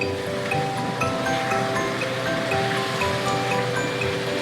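Water pours into an egg curry (dim kosha) simmering in a pan, a steady rushing, bubbling wash that runs loud and continuous throughout.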